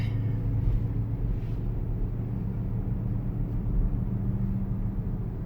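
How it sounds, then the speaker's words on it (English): Mazda MX-30 electric car on the road, its artificial engine sound played through a speaker as a low, steady hum over continuous road rumble from inside the cabin, even and moderate in level. "Just by the speaker they will just play some kind of an engine noise to make it feel more normal"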